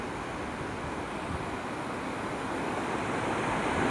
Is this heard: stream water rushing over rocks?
yes